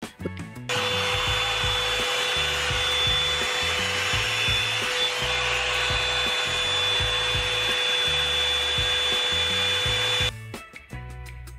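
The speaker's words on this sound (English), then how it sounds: "As you can see, the dryer is gliding through my hair easily" Revlon One Step hair dryer brush running while blow drying hair, a loud steady whooshing roar with a constant motor whine that switches on after a moment, with brush handling knocks beneath, then cuts off near the end.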